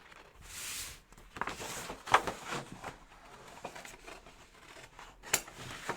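Pattern scissors trim fabric on a dress form while a basic bodice is draped, giving quiet, scattered snips and soft rustles with no talking.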